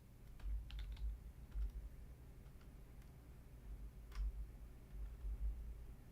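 Quiet keystrokes on a computer keyboard as a player's name is typed in, a loose scatter of light clicks with soft pauses between them, fairly close and with no voices.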